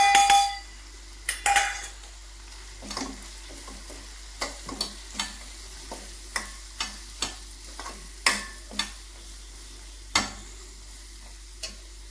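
Cumin, coriander and Kashmiri chili powder go into a hot pan for a fish curry with kosu, giving a low steady sizzle broken by a dozen sharp spoon-on-pan clinks and scrapes while stirring, with no talk.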